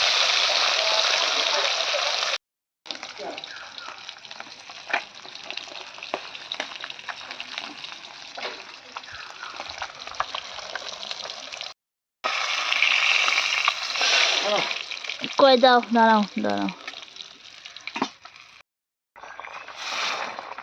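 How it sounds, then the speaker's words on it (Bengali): Eggplant and fried fish curry with tomato bubbles in a pan in a Bengali village kitchen, a steady watery simmer and splutter running throughout with brief gaps, while someone talks over it. "তো এই যে বেগুন ফুটছে"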